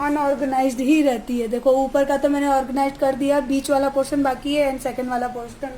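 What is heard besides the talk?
No distinct noise like a dog, phone or traffic.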